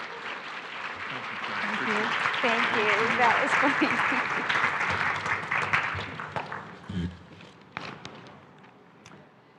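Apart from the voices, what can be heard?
audience applause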